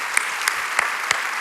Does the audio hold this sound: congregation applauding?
yes